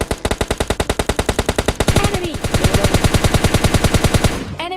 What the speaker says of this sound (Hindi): बंदा फायर करके बुलाता है कि भाई मैं इधर हूँ